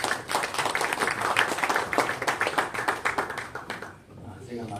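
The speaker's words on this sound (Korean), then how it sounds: "박수 환영해 주시기 바랍니다." An audience claps to welcome a pastor giving a lecture on Korean Presbyterianism, dense steady clapping for about four seconds that thins out at the end, with speech mixed in.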